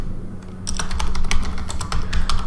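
A computer keyboard being typed on to enter a command, a quick run of sharp, close key clicks that starts after a brief quiet moment and continues steadily at an uneven pace.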